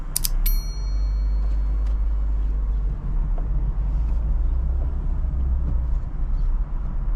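A 2010 Ford Fiesta Rocam with a 1.0 flex engine hums steadily while driving, with low rumble and road noise throughout, preceded by a couple of brief clicks at the start.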